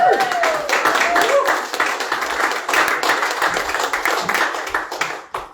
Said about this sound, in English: I invite you and give a round of applause for Vilma.